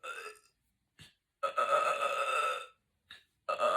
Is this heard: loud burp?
yes